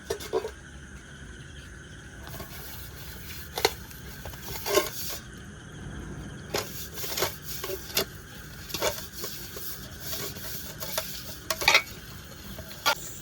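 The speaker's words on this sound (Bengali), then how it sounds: "এই গামলাতে ভালো করে ঘি মাখিয়ে নেব" A spoon scrapes and rubs ghee around the inside of a metal bowl for chicken dum biryani, with soft repeated scraping strokes and occasional sharper taps against the bowl, close up and with no talking.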